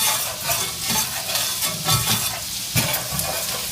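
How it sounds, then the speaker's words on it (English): Onions and flour stirred in a hot frying pan for chicken piccata, with a steady close sizzle and repeated scraping of the spoon along the pan bottom as the flour is loosened. "I'm still loosening up the flour that's on the bottom of the pan."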